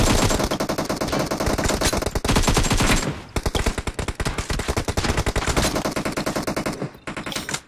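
Rapid automatic gunfire from the mobile battle-royale shooter PUBG Mobile, loud and dense with sustained bursts of shots, a short break near the three-second mark, then more continuous firing.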